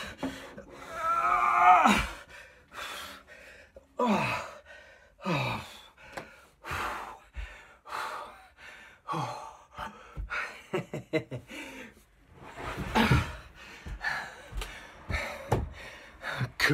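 Heavy breathing after hauling a timber beam up three storeys of stairs in a loft conversion: repeated loud gasps and sighing breaths, close to the mic, coming in uneven bursts throughout.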